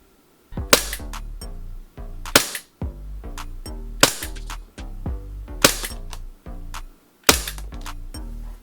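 A Kizuna Works KW-15K / PL-15K airsoft pistol fires through a chronograph: about six sharp, close, cap-gun-like shots, each followed by a rattling mechanical clatter, with short gaps between them.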